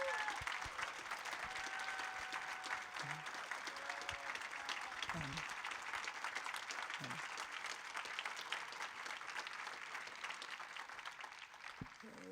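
A convention audience at a business session gives a round of applause for the events team, steady crowd clapping that holds for several seconds at a moderate distance before tapering off near the end.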